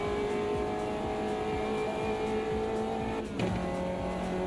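A Caterham Super Sport race car in a racing game drones steadily at high revs, with a quick shift and a dip in engine note near the end and faint tire noise, loud throughout, no voices.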